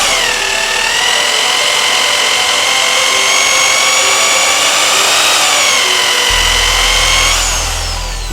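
A smaller-diameter drill bites into a 100-year-old rivet with a loud sustained whine that shifts pitch slightly as it cuts, running about seven seconds before winding down.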